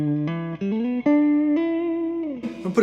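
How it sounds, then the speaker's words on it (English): Electric guitar through a Fender Blues Jr. amp, notes ringing out with a gentle reverb tail, sustained tones sliding between pitches, followed by a few quick strummed notes at the end. "So now you've got a little bit of reverb"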